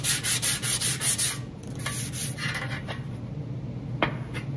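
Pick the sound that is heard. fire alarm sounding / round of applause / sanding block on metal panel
sanding block on metal panel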